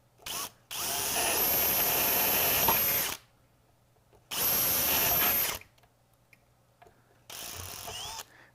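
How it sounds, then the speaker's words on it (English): Power drill bores holes into a wooden chassis in three bursts, a long whine of about two and a half seconds, then a shorter one, then a brief third, loud and close with quiet gaps between. "You can drill on a little bit of an angle away from the other hole."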